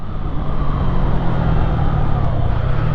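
A car engine running as the driver eases off and brakes from around 85 km/h, heard from inside as a steady, moderately loud drone with road rumble and no talking.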